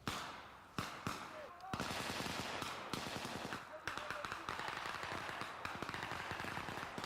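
Rapid bursts of gunfire crackle continuously during a simulated military scouting mission by airborne soldiers in pre-ranger school, sharp repeated reports that sound somewhat distant and dense.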